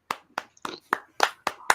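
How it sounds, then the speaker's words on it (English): A round of applause for a guest, heard as about seven separate sharp bursts of clapping spaced evenly a quarter second apart, fairly close and moderately loud with no talk over it. "applause for Stephen for being a parent"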